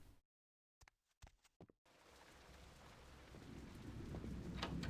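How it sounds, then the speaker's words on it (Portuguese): Steady rain hiss in the Vampire: The Masquerade – Bloodlines video game, starting abruptly after a near-silent stretch with brief bursts and building louder and denser over several seconds, with no voices. "Tá chovendo de novo."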